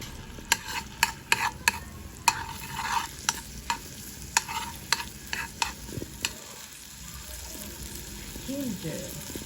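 Ginger fries in a pan for salmon belly sisig, with a continuous sizzle under a rapid series of sharp metal scrapes and clacks as a utensil stirs and hits the pan. The stirring pauses briefly near the end.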